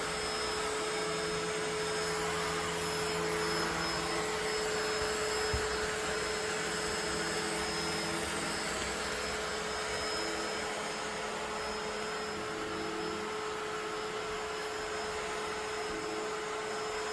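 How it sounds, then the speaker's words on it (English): Ecovacs T10 OMNI robot vacuum running in combined mopping and vacuuming mode, a constant whirring motor drone with a steady high whine, heard up close and unchanging throughout, with a faint brief knock near the middle. "You can either mop and vacuum simultaneously"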